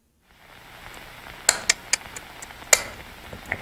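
An instrument in a horror video game gives off a few sharp, bright clicks, about six irregular ticks over a faint hiss, fairly quiet and with no talk.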